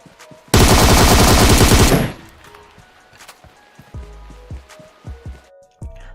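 Automatic gunfire in the video game PUBG, a loud rapid burst lasting about a second and a half, followed by scattered thuds, clicks and short impact sounds.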